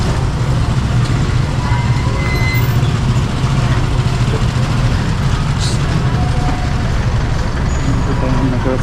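Heavy road traffic with trucks and buses, a dense, loud, unbroken roar of engines and tyres up close, with faint beeps and hiss mixed in.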